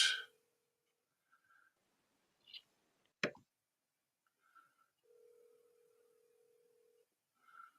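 A telephone call being placed, with a few short dial-tone-like beeps and clicks, a sharp plop, then a steady ringback tone lasting about two seconds before another beep, all quiet with no talking.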